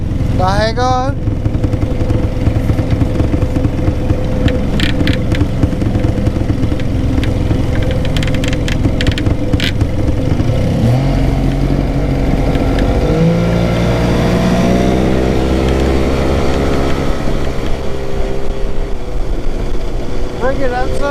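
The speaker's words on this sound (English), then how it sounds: "So go back and lower the motor, like bring it down." An outboard motor on a small boat runs steadily while it is lowered, a loud continuous engine drone whose pitch shifts partway through, with people talking over it.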